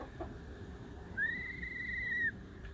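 A contented young gosling, raised alongside a Brahma hen, gives one sustained, high, thin chirping call lasting about a second, close by over faint background noise.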